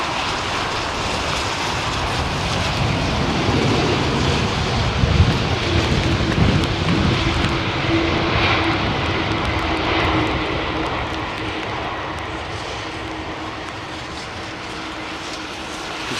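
Virgin Atlantic airliner's jet engines spooling up to full takeoff thrust at London Heathrow, a loud broad roar that builds and holds with a rumbling low end.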